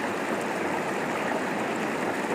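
A river on Dartmoor flows around a small island, giving a constant close rushing and burbling of water that holds level throughout with no voices.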